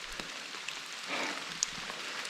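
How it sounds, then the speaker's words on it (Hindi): Steady rain falls through forest on the Naag Tibba trek, a soft continuous hiss with scattered drops pattering close by, fairly faint and with no voices. "और बारिश लगातार चल रही है।"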